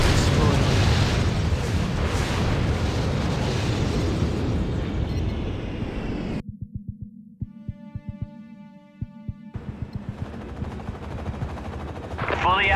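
A vehicle explodes in the Act of War strategy game with a loud burst of booms and gunfire. The noise then cuts out to a sparse rhythmic thumping, and the battle din returns before the end.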